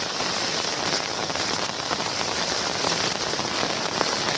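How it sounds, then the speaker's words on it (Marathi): Heavy monsoon rain pours steadily, drumming densely on nearby surfaces and an umbrella with a constant loud hiss and no voices. "जास्तच जोरात पाऊस चालू आहे."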